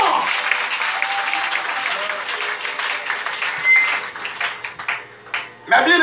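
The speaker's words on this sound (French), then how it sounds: "l'éternel mérite un applaudissement l'éternel mérite un applaudissement" A church congregation at a Sunday service breaks into applause that is full and sustained at first, then thins and wavers before a brief renewed burst at the end, with faint voices mixed in.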